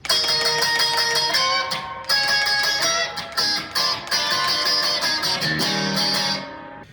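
An electric guitar plays the intro to a song at full speed, with bright, loud strummed chords in quick bursts and short choppy breaks, alone and without talk.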